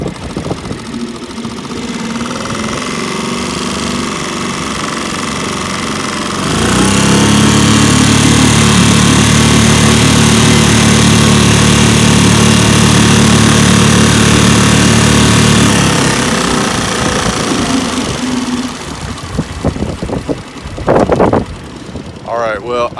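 A small electric outboard on a Pelican Bass Raider 10E boat with a modified transom runs at full throttle, a steady loud motor whine and hum holding for several seconds before easing off, with wind noise and splashing around it.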